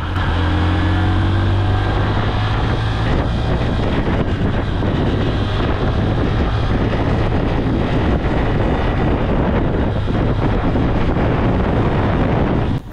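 A steady engine hum from a 2025 Honda SP125 motorcycle under heavy wind buffeting, loud and continuous as if recorded while riding at speed.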